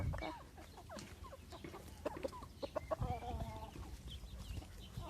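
Ducks and ducklings, including American ducks, call nearby, with scattered quacks and soft peeping over a low murmur of farmyard background noise.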